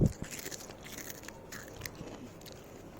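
Crisp bites into homemade microwave potato chips, one sharp crunch up close at the start followed by softer, scattered crackling chews, with no talking.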